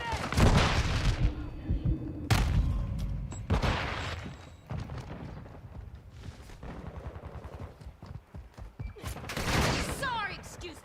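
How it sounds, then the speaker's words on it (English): Combat in Call of Duty Modern Warfare II with a flash grenade detonating amid loud bursts of gunfire and booms, several sharp blasts spread across the scene with voices in between. "Throwing flash grenade"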